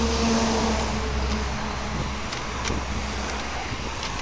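Cars in busy city traffic in the old neighbourhoods of Antalya, heard from a bicycle: a steady, loud roar of engines and road noise with a low rumble throughout and brief passing swells.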